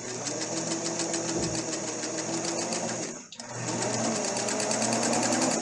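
A sewing machine runs steadily as it stitches a straight seam on fabric for patchwork, with a dense mechanical whir that drops out briefly near the middle and then resumes at the same steady pace.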